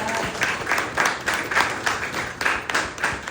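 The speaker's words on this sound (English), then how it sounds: "I want to give her a big round of applause." Audience applause at a poetry event at VP Records in New York, with clear individual claps pulsing rhythmically within the crowd's clapping, fairly close and loud, no talk.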